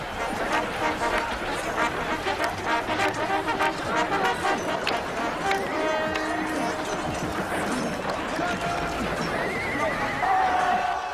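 Horses whinny and neigh repeatedly amid hoofbeats and a busy crowd, with voices chattering underneath throughout.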